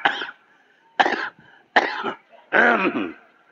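Four short coughs or throat clearings, close and distinct, with brief quiet gaps between them. The last one is longer and rougher.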